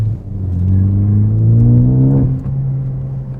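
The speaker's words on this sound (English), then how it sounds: "that exhaust really likes to make a different noise right on like the 4 to 5K range" A Ford Focus ST fitted with a new intake and exhaust revs up: rising engine harmonics climb steadily for about two seconds, then drop off into a steady lower drone as the throttle eases, loud and close with no talking.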